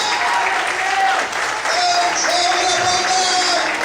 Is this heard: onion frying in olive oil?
no